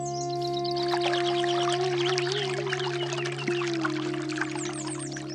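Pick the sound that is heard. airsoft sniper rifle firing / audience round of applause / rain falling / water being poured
water being poured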